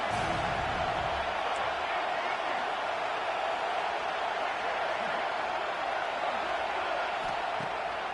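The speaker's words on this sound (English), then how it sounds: "Decibels rising as the crowd gets behind this defense on 3rd down" Stadium crowd noise from a college football video game, a dense, steady roar of cheering holding at one level throughout on a third-down defensive stand, loud and unbroken.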